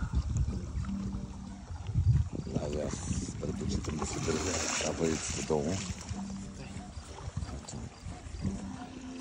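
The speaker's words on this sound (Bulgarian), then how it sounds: "Готово. Лодката тръгва." A remote-controlled fishing bait boat sets off across the water, its motor and splashing a low steady rumble under outdoor wind noise while people talk nearby.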